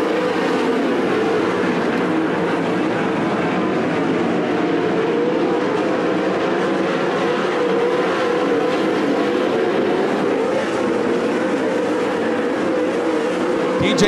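410 sprint cars race around the dirt oval at Attica Raceway Park, a dense, loud, continuous roar of many engines sustained throughout with no pauses.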